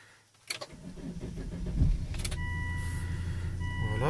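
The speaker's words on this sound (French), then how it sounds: "Je vais pouvoir appuyer sur le frein pour démarrer." A Volvo XC90 engine cranks and starts after a few clicks, then settles into a steady idle with a faint electronic tone above it.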